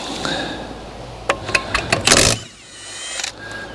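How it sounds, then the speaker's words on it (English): Pneumatic nut gun spinning off 19mm wheel nuts on a 5th wheel trailer during servicing, a cluster of short whirring bursts followed by one longer rattling burst, close and loud over workshop background. "We use one of these nut guns, so sort of cheating a little bit."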